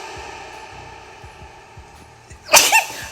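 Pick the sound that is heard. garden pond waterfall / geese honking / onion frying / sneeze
sneeze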